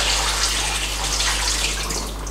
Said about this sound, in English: Pouring the water in won't cause any damage